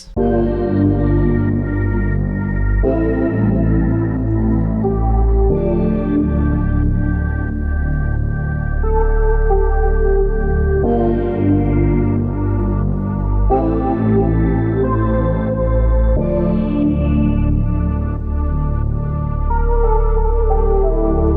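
Smooth, loud R&B instrumental with warm sustained synth chords and a deep synth bass line, a soft rain-like hiss layered underneath, playing continuously without vocals.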